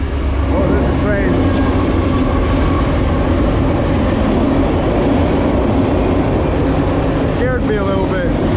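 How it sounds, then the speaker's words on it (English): A train rumbles past near a creek, loud and close, with a steady roar of rolling wagons and clattering wheels, a faint squeal of wheels in places, and a voice briefly heard over it. "Oh, there's a train."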